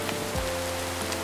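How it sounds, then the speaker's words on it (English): Heavy downpour in the Minecraft Mesabrook game, a steady dense hiss of rain drumming on surfaces that fills the whole stretch at an even level, with no voices over it. "Ooh, it's really downpouring."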